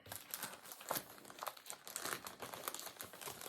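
Crinkly plastic packaging around fabric rustles and crackles close by, in a steady run of irregular crisp crunches as it is handled.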